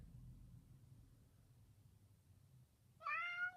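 After nearly three seconds of quiet low hum, a single cat meow comes in near the end, close and distinct.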